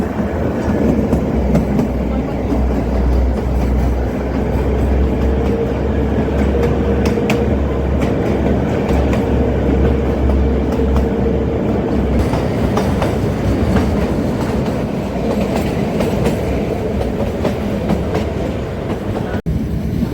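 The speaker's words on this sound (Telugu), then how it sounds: "చూడండి మళ్ళీ ట్రైన్ టనల్లోకి వెళ్తుంది" The Kalka–Shimla toy train runs steadily on its rails, entering a tunnel, with a continuous rumble and faint rhythmic clatter, loud and close throughout.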